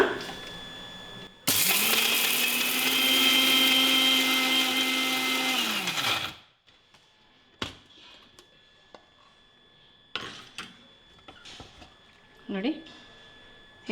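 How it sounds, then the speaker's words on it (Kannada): Electric mixer grinder whirs loudly for about five seconds, grinding roasted ingredients for a spicy bitter gourd dish, then cuts off abruptly and winds down, followed by quieter clinks and handling noises. "ಇದನ್ನು ಸ್ವಲ್ಪ ರುಬ್ಕೊಂಡ್ಬಿಡೋಣ"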